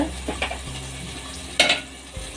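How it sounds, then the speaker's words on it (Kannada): Onions and masala spice powders fry in a pan for chana masala, a soft steady sizzle broken by a few sharp scrapes and clinks of a spoon stirring against the metal. "ಒನ್ ಟೇಬಲ್ ಸ್ಪೂನು ಅಚ್ಕಾರದ ಪುಡಿ ಸ್ವಲ್ಪ ಅರಿಶಿನ ಪುಡಿ ಒನ್ ಟೇಬಲ್ ಸ್ಪೂನ್ ಆಗೋಷ್ಟು ಧನಿಯಾ ಪುಡಿ ಇಷ್ಟನ್ನು ಹಾಕಿ ಚೆನ್ನಾಗಿ ಫ್ರೈ ಮಾಡ್ಕೋಬೇಕು"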